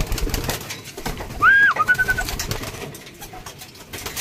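Pigeons cooing in a loft at feeding time, one clear coo call standing out over a soft, steady background of rustling and faint bird sounds.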